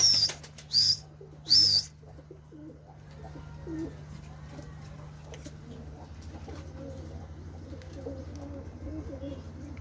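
Pigeons kept on a rooftop: a few loud flapping wing bursts at the start, then a softer stretch of low cooing and faint rustling under steady background hum, with a voice talking quietly.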